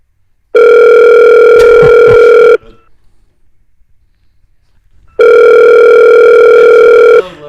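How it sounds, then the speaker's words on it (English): A telephone call goes out and rings twice: two loud, steady ringback tones of about two seconds each, separated by a long silent gap, with no voices. "let's try to get Larry on the phone here real quick."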